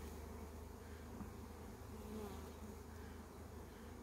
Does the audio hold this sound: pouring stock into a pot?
no